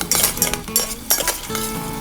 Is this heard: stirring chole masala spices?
yes